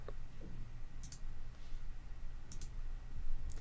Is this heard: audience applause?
no